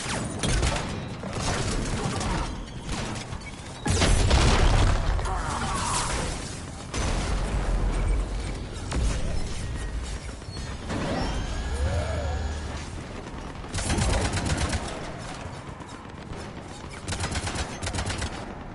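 Cannons fire amid a Mass Effect 3 battle: repeated heavy blasts and rapid bursts of gunfire with crashes, loud and dense across the whole stretch, with game music and effects layered in.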